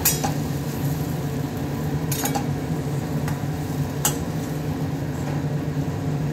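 Lima bean pods tipped into a pan of frying potatoes, a few sharp metallic clinks and rattles over a loud steady frying hiss.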